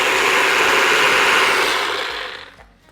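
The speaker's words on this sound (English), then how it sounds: "And then we're gonna blend all of this together" A small blender whirs steadily through a thick avocado key lime pie filling, a loud continuous motor drone that slows and fades out near the end, with no talking.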